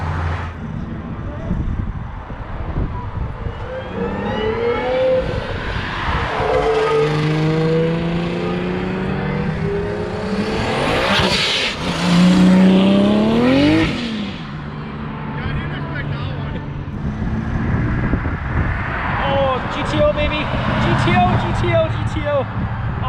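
Cars roll out of the Das Parts Oktoberfest 2022 car show, engines revving and accelerating past one after another, loud and close, with rising and falling engine tones and voices talking over them.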